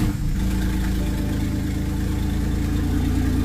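Car engine restarted after a catalytic converter repair, idling steadily and loud at close range with a smooth, even low rumble and no stumbling, alone without voices.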